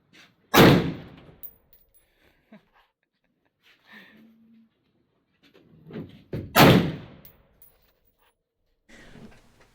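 Two loud, sharp gunshots at an outdoor shooting range, roughly six seconds apart, each a sudden broadband crack with a short decay, separated by quiet stretches with faint handling noise and brief murmurs.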